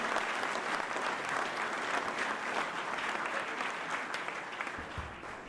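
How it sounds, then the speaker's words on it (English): Audience applauds a team at a Philadelphia mayoral press event on a 76ers Center City arena deal, a steady wash of many hands clapping throughout, fading slightly near the end. "So give the team a round of applause, and Sam and Rob, come on up."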